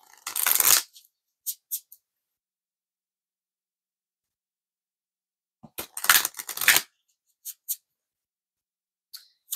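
Oracle cards being shuffled by hand: a short papery rustle at the start, then a longer flurry several seconds later, with a few soft isolated taps and long silences between.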